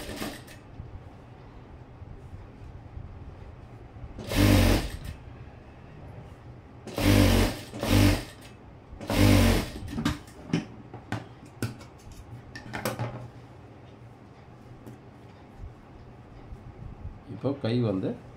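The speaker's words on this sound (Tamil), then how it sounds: "இப்போ நான் திருப்பிட்டு இன்னொரு தையல் போட்டுக்கிறேன்." A sewing machine stitches a blouse in several short bursts of running, each a few seconds long. Light clicks and fabric handling fill the quieter gaps between bursts.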